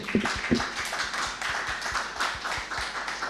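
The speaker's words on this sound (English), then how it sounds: "let's give a huge round of applause to our speakers" Audience applause for speakers at the end of a conference session on climate risk mapping, a soft steady patter of clapping that carries on evenly in the background with no voices over it.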